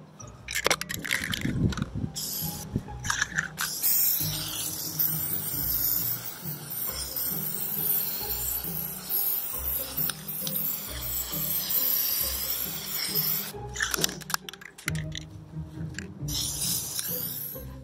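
Spray paint from an aerosol can coats a whole galaxy painting black, giving long steady hissing bursts with short pauses and can rattles in between, close and fairly loud.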